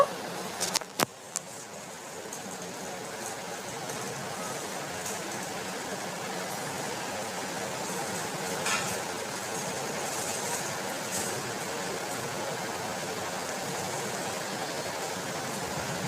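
Potato rolls made with flour and potato fry in oil, giving a steady, even broadband hiss that lasts throughout with a few brief clicks near the start and no talk.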